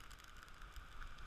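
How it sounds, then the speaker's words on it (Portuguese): Steady rain falling on a windy, cold day at Praia da Costa beach, heard as a continuous, even hiss of drops with low wind rumble beneath and no voices. "bateu um vento muito forte, está chovendo"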